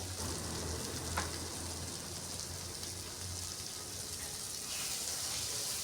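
Ground red chilli, coriander and cumin frying in a pan for biryani, a continuous close sizzle with a crackling, rain-like texture that holds steady throughout with no pauses.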